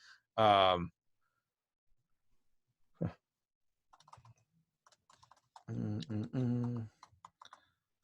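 Soft, sparse keystrokes on a computer keyboard tick faintly through near silence, interrupted by a couple of short vocal sounds and a brief spoken phrase.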